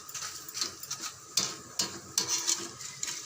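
Corn flakes snack fry in hot oil on a low flame, giving a soft, steady crackle punctuated by several sharper clinks and taps of a utensil against the pan, fairly quiet and close, with no talking.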